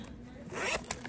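A zipper runs along the zip coin pocket of a dusty pink leather Gucci GG Marmont zip-around wallet, giving a short, close rasping pull that peaks briefly and trails off.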